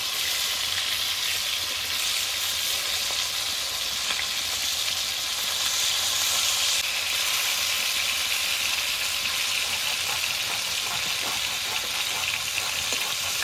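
Rita fish fries in a pan with a steady, dense sizzle that stays loud and even throughout, with no voices over it.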